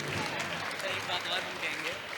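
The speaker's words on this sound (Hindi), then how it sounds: "एक बार जोरदार तालियां होनी चाहिए" Loud audience applause fills a college hall during a Saraswati Puja cultural program, dense continuous clapping from a crowd with voices mixed in throughout.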